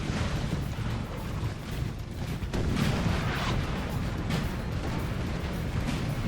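Cannon fire in the Napoleon Total War battle game rolls as a dense, continuous rumble of artillery booms at a distance, with sharper blasts standing out from a noisy battlefield roar.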